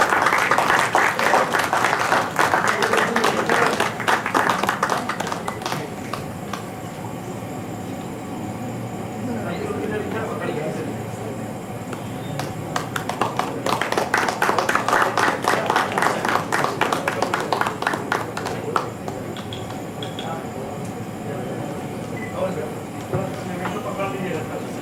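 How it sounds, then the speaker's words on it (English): A conference audience at the RSSDI Bihar 2023 meeting applauds a guest speaker. A dense burst of clapping is followed by a quieter lull, then a second long round of applause that fades out. "A big round of applause."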